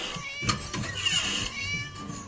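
Loud, wavering meows from a cat in a video game come one after another, high and drawn out, over faint low thuds.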